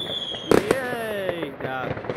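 New Year's Eve fireworks in a town: a single dull, muffled bang up close, followed by a ringing whistling trail, with people talking and exclaiming over it.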